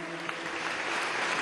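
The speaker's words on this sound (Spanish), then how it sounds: "Vamos a darle un aplauso al jefe del Estado Mayor" A crowd at a televised government event in the Caracas Metro gives sustained, dense applause for the chief of staff, steady clapping with no talk over it.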